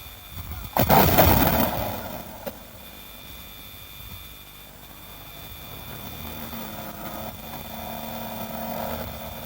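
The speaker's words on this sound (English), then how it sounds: "And then the artillery barrage to give cover to the advancing armor." Artillery barrage laying down cover fire for advancing armor: a heavy close blast with a long rumbling roll, a second sharper report, then a low sustained engine-like drone.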